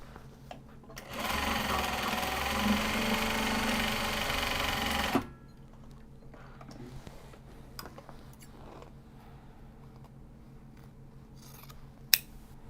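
A sewing machine stitches a Japanese fabric bag in one steady, loud run of about four seconds. Quiet handling noises follow, then a single sharp click near the end.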